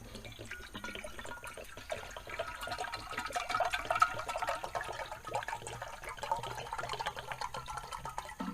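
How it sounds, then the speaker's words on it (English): Water pours and trickles steadily into a canteen, a continuous splashing flow that swells in the middle before tapering slightly. "I'm going to add the water right into there."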